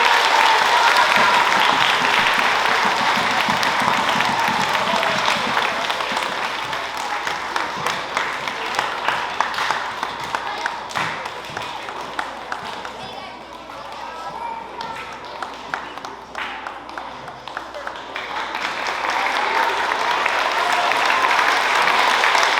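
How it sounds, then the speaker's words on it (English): An audience at an elementary school spring band concert applauds fourth grade dancers, a loud, sustained burst of clapping that dips in the middle and then swells again near the end. "Let's have one more round of applause for our 4th grade dancers."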